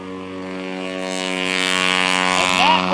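Propeller STOL aircraft at a grass-field short takeoff competition, a steady droning engine with strong harmonic hum rising gradually in loudness, with a brief pitch sweep near the end, no talking.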